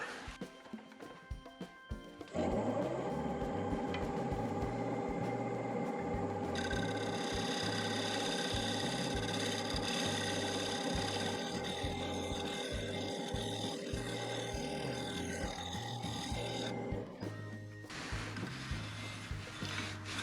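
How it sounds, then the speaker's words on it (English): A wood lathe hums steadily while a tool shear-cuts a spinning applewood bowl, producing a sustained rough cutting drone that stops near the end. "Now I'm going to try shear cutting on there"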